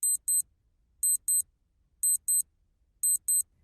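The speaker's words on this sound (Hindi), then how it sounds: "इसके अंदर एक अलार्म क्लॉक है।" An alarm clock beeping from inside a sleeping bag during a hide and seek game: four rounds of paired electronic beeps repeat at a steady one-second rhythm, clear and close, with no talk.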